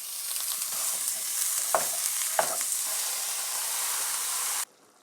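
Three pounds of meat for homestyle chili frying in a hot pan, a steady close sizzle and hiss with a couple of stirring scrapes, ending abruptly.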